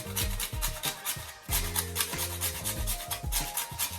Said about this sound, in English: now I'm just going to grate my nutmeg